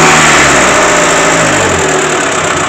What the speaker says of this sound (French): Maintenant, on va aller écouter un petit peu le pot, quand même.